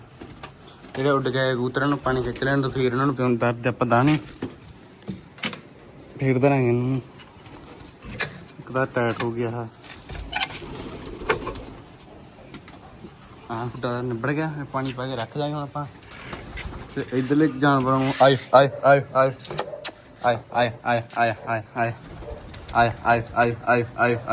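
Pigeons coo in repeated throaty, rolling calls close by, several birds overlapping, with faint clattering and occasional voices between the calls.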